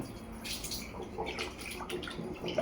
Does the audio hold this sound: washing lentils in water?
yes